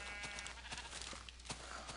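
Faint sheep bleats in the Minecraft video game, a few short calls repeating over a low, steady hiss.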